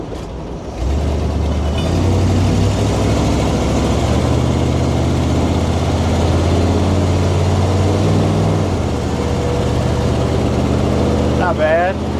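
An abandoned 1977 Dodge on the road after 20 years, its engine droning low and steady with rumbling cabin noise filling the interior, a brief rattle near the end.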